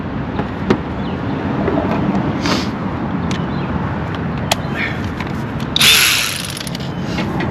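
Ratchet clicking in short bursts while tightening a 12mm bolt on a 2018 Honda HR-V 1.8L alternator, close and crisp over a low background, with a louder scrape near the end.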